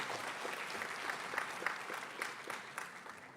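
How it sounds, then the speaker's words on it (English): Steady applause from a crowd at an IIT Hyderabad convocation, a dense patter of many hands clapping at a moderate distance, sustained throughout. "Give a big round of applause."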